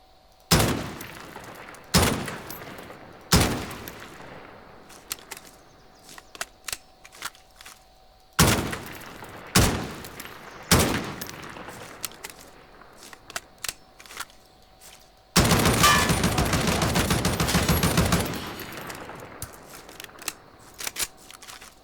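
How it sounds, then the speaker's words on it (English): ODEN assault rifle fire in Call of Duty Warzone: sharp single and burst shots spaced irregularly, followed by one sustained automatic burst of about three seconds, loud and close with no talk. "now let's see how the gun actually functions when we generally use it"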